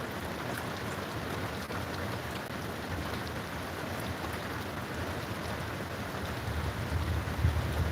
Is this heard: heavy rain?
yes